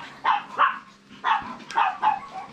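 A Laika dog barks five times nearby, sharp yaps in two quick pairs and a trailing single, loud against a quiet background.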